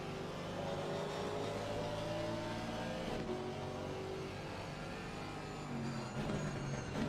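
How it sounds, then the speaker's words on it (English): A BMW GT4 race car in Assetto Corsa Competizione at the Hungaroring accelerates hard, its engine note climbing steadily through the gears, loud and continuous with other cars droning alongside. "As soon as he gets into a straight line, the BMW will take off."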